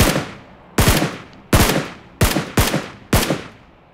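Gunfire in a video game: six sharp, loud shots at irregular intervals about half a second apart, each with a short decaying echo, no talk over them.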